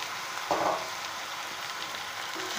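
Vegetables stirred and fried in a hot pan for a hotel-style dish, a steady soft sizzle with a brief louder scrape of stirring near the start, no talking.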